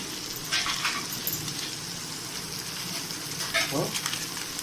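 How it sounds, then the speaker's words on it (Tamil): Onion with turmeric, chilli and coriander powders sautéing in a pan for banana-leaf fish fry, a soft steady sizzle with a couple of brief stirring scrapes and clinks. "மசாலாவோட பச்சை வாசனை போகிற வரையும் கொஞ்சம் நல்லா வணக்கிட வேண்டியது"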